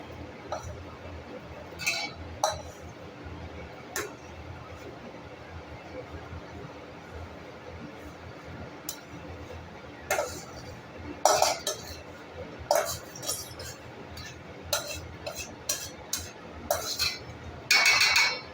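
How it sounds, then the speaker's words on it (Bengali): Fried rice with bay leaf and garam masala is tipped into a cooking pot for pulao, giving scattered clinks and scrapes of a metal spoon against cookware over a low kitchen hiss, louder toward the end. "আমাদের চালটা ভাজা হয়ে গেছে, এবার আমরা এটাকে আমাদের হাঁড়ির মধ্যে দিয়ে দিচ্ছি।"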